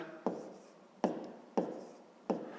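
A pen writes numbers on paper during a fifth-grade maths exercise, making four short, scratchy strokes spaced about three-quarters of a second apart, each fading quickly in a quiet room.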